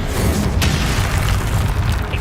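An Incendio fire spell going off in Hogwarts Legacy, a loud rumbling whoosh and burst with a sharp crackle near the start, dense and sustained throughout with no voice over it.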